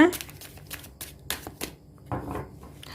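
Tarot cards are shuffled by hand in a series of quick papery riffles and flicks, close and fairly clear, with someone speaking softly between them.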